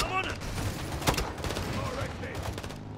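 Gunfire in the Call of Duty video game erupts as a dense, continuous volley of overlapping shots, loud and close, with voices briefly mixed in.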